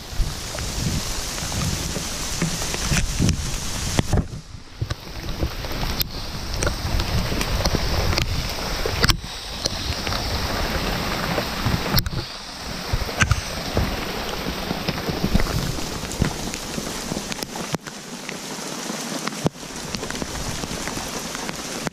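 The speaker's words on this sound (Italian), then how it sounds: "grandina." Hail pelts down outdoors in a dense, steady patter with no letup, loud and close, with no one talking.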